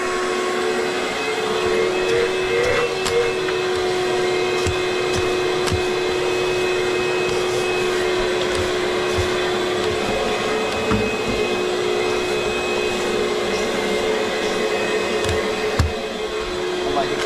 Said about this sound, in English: go around and vac it out